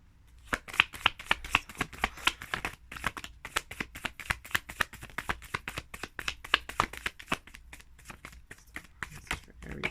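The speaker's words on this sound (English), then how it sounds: "All right, one more shuffle." Tarot cards being shuffled up close, a long run of quick crisp riffles and taps in a fairly even rhythm, with no voices.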